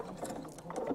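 A sewing machine runs in reverse while sewing a thread catcher, giving a close, continuous mechanical whir with quick patter throughout the brief moment.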